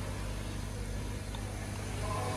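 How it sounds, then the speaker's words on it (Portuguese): A 2025 Honda HR-V engine idles just after a cold start, a steady low rumble that holds even and close throughout with no other sounds over it. "Normalmente a primeira partida, ela, o ronco fica um pouco mais forte porque tá tudo frio o conjunto"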